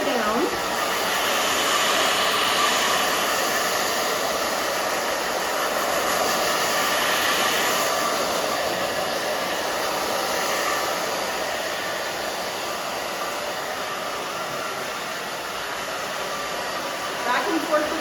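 A hair dryer blows steadily and loudly at close range while short hair is dried down at the back, a constant rushing whoosh that varies only slightly as it moves.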